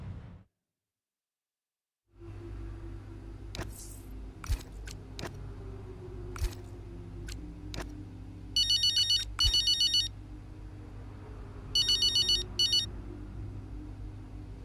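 A phone ringtone chirps in two short ringing bursts over a low engine-like rumble in the F1 25 racing game, clear and close after a brief silence.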